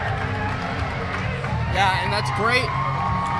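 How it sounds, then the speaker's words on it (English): Hockey arena crowd at the Plex cheering for both teams, a steady loud roar of many fans with whoops rising near the end, under a voice talking over it. "a countless number of fans here, all cheering for both sides"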